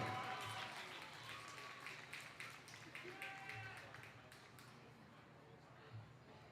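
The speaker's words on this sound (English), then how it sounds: "one more big round of applause for Ava and Antonio as they exit their car" Crowd applause in the stands at a high school football game between Fort Vancouver and St. Helens, greeting senior couples as they step out of a car: faint, distant, continuous clapping with an announcer's voice over the top.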